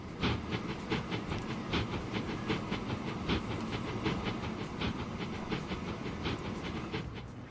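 Trains run in the video game Transport Fever 2, with rhythmic clickety-clack of wheels over rail joints under a steady rumbling hiss, moderately loud and continuous without talk.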